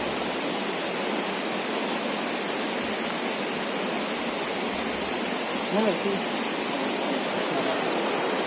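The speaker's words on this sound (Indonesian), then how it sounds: "puncak gunung ini terdapat air terjun" A waterfall on a mountain top roars as a dense, steady wash of broadband noise throughout, with a brief spoken remark and faint voices partly under the rushing water.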